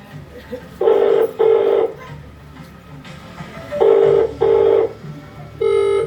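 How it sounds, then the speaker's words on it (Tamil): A telephone call tone repeats in steady paired beeps before a busy announcement, loud and close, with short gaps between pairs and a final higher tone at the end. "The number you have dialed is currently busy."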